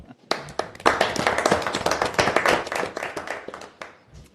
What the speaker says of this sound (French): ça mérite une main d'applaudissement